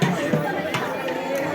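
A dense crowd murmurs and chatters at an Ashtami bhandara feast by a Mata temple, steady babble close around with a nearer voice speaking over it.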